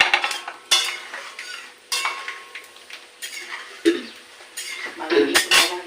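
Peanuts fry in oil in a wok, with a light sizzle under repeated metallic scrapes and clinks from stirring, sounding close and intermittent.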